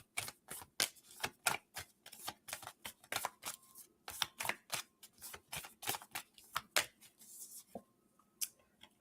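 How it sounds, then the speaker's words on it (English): Oracle cards being shuffled by hand, a quick run of crisp riffling snaps and flicks in uneven bursts, close and fairly quiet, with no talking. "Let's kind of shuffle just these few that fell out."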